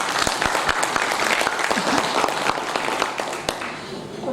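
Audience applause at a business summit hall: sustained, dense clapping from a large crowd, steady and fairly loud, fading slightly toward the end.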